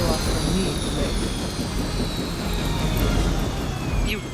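Helicopter engine and rotor roar being brought down in the video game Marvel's Midnight Suns, a loud sustained drone that holds steady throughout.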